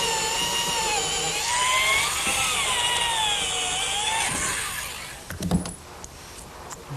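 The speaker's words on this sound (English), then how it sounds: "And now a pilot hole with a 1/4 inch size for the threaded portion." A power drill bores a 1/4 inch pilot hole for the threaded part of a bolt in a picnic table build, its loud whine rising and falling for several seconds before winding down, followed by a few clattering knocks.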